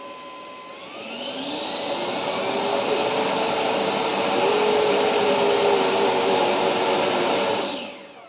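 An electric ducted fan motor with a 12-blade fan in an E-flite F-15 RC jet spins up to a high, steady whine with a rising pitch, holds at full speed for several seconds, then spools down quickly.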